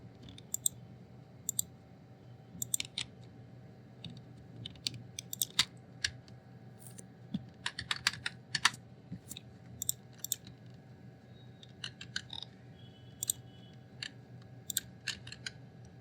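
Fast clicking keystrokes on a computer keyboard while Java code is typed, irregular bursts of sharp taps over a steady low hum, fairly close and fairly quiet, with no speech.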